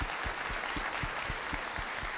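Audience at an evening panel event giving a round of applause, steady broadband clapping with a few distinct nearby claps standing out, continuous throughout and fairly soft.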